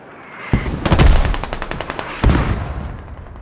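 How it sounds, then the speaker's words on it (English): Burst-fire gunfire in the tactical shooter game Squad: loud, sharp bursts of rapid shots with echoing tails, a long rattling string followed by another sharp burst, no talking. "He's using that burst fire."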